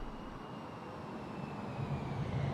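The engines of an Airbus A321-200 at idle thrust in the X-Plane 11 flight simulator produce a faint, steady low drone with a soft broadband rush and a faint high whine, slowly rising slightly in level.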